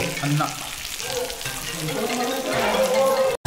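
Surmai fish frying in a pan gives a steady, close sizzle with bubbling crackle throughout, cut off briefly near the end.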